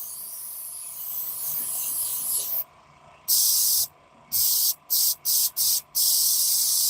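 An airbrush hisses paint in a steady bright spray, then cuts off and restarts in a series of short bursts separated by brief silences, close and fairly loud.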